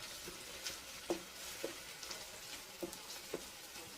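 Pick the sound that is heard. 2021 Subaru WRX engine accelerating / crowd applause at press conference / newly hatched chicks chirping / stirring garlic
stirring garlic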